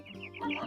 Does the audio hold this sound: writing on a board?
no